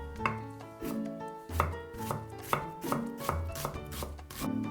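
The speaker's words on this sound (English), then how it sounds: "Cut 1/2 onion into small chunks" A knife cuts half an onion into small chunks on a board, making a run of about ten close, crisp chops in a fairly steady rhythm. The sound is clear and uncovered, with no voices.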